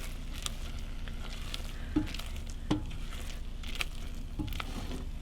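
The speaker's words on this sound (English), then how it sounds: "Now, we're just gonna keep on mixing again." Eggs with salt and pepper sizzle and fry in a hot pan while being stirred, a steady close crackle broken by several soft scraping and squishy stirring strokes.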